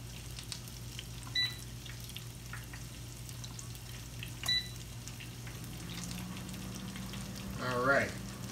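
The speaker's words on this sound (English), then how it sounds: "Let me get my french fries going here." French fries frying in oil make a low, steady sizzle throughout, with faint beeps and a few light kitchen clanks, and a brief whining swirl near the end.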